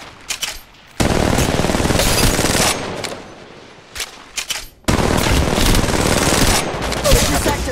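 Rapid automatic gunfire from the mobile shooter Apex Legends Mobile rattles loudly in two long sustained bursts, separated by a brief pause with a few scattered shots.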